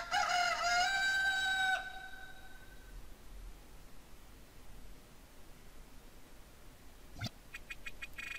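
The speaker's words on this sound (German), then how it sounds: "als ein Hahn in der Ferne kräht" A single rooster crow from the video game Alundra rings out in the distance at the start, fading after about two seconds, followed by quiet background hiss and a short synthetic chime near the end.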